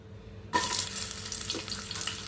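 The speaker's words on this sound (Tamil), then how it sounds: "இப்போ கடுகு பொரிஞ்சிச்சு நம்ம வெங்காயம் போட்டுக்கலாம்" Onions dropped into hot oil with mustard seeds already popped set off a sudden loud sizzle, settling into a steady close frying crackle with a brief stir.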